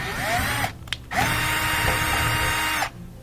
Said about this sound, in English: we have to take out a couple of screws here